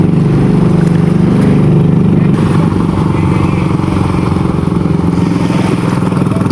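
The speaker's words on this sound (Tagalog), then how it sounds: "Sunod-sunod na pang dumarating ang mga bangka." Loud, continuous fishing boat engine noise droning close by, with a second motor layered in and slight shifts in pitch as boats arrive one after another.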